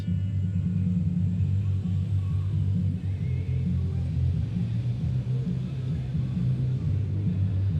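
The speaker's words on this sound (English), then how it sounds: "the F-18 Super Hornets are now starting their engines." U.S. Navy Blue Angels F-18 Super Hornet jet engines starting up at the Thunder Over Louisiana outdoor airshow, a distant, steady low rumble with a faint hum that holds throughout and no talk over it.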